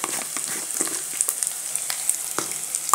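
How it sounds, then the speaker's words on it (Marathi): Whole coriander seeds frying in oil with ginger and garlic, a steady bright sizzle with scattered small pops and crackles close by, no voices. "आता याच्यामध्येच आपण अख्खे धने टाकणार आहोत."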